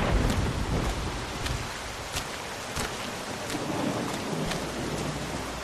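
Steady heavy rain pours throughout a rainy scene in The Walking Dead video game, with several sharp thunder cracks and rumbles breaking through at intervals; no voices.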